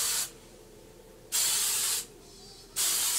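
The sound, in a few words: hairspray being sprayed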